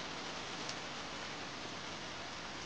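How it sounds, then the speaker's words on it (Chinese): Rain falls steadily in an ancient-costume Chinese TV drama scene, a dense, even hiss of moderate loudness with no voices over it. "下雨了，快跑！"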